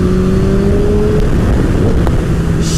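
A Honda CBR1000RR sport bike engine accelerates hard, a loud close roar with a climbing pitch that levels off within a few seconds, no talking.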